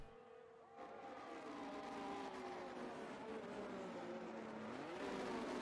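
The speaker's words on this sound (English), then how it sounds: "listening to the different sounds of the engines." Race car engines from a Bathurst/Australian Grand Prix support-category racing series, several loud engines droning together with shifting pitch as cars pass, continuous and close without talk.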